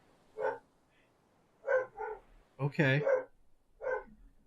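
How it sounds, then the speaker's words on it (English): A dog aboard a boat gives several short, sharp barks and yips in irregular bursts, close by, with a person briefly speaking among them. "When did we get a dog on the boat?"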